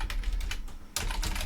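Quick keystrokes on a computer keyboard, soft clustered taps close by with a brief pause before a denser burst of typing.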